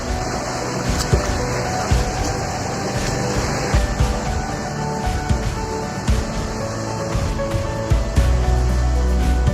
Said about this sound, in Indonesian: ada air terjun kedua. Menuju air terjun ini, Anda harus menyeberangi sungai